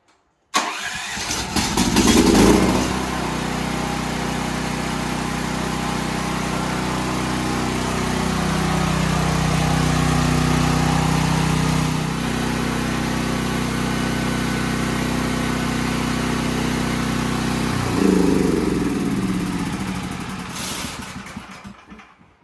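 Champion 12,000W portable generator engine catching and then running at a steady, loud drone for about twenty seconds, with a rough rise at start-up and a brief surge near the end before it winds down, close by with no talking.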